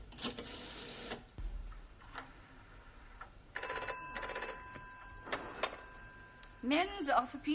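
An old office telephone bell rings in short bursts in a classroom comedy setting, with people talking between and around the rings.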